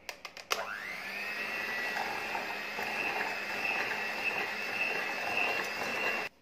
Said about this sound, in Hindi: अब इसे हैंड ब्लेंडर से फिर से अच्छे से ब्लेंड करेंगे